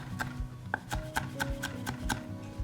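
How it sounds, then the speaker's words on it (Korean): A knife cuts vegetables into fine julienne strips on a cutting board for an ocean quahog salad, a quick, even series of close crisp taps. "그래서 최대한 가늘게 채 썰어 주세요."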